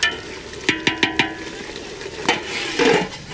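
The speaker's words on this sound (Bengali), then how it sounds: "এবার ঢাকাটা খুলে নাড়া দেবো" Duck meat cooking in a clay pot is stirred with a spoon, several sharp scraping clacks against the pot over a gentle sizzle, close and clear, with no voices.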